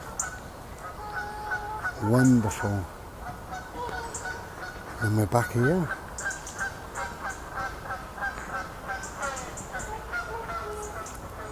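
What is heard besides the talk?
noisy ducks calling outdoors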